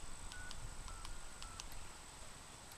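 Faint touch-tone dialing beeps on a field phone private automatic branch exchange, several short separate tones over a steady hiss and line hum, with no voices.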